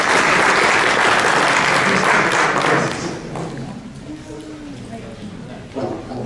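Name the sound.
audience applause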